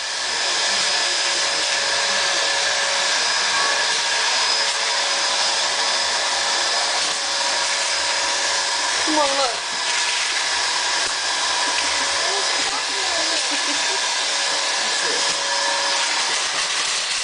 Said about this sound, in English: How are you gonna vacuum?